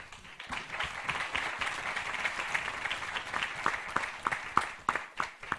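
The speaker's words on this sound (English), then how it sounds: "Let's do a big applause for our panelists." Audience at a biodiversity finance conference applauds the panelists, scattered clapping that builds into a lively round, with sharper individual claps standing out near the end.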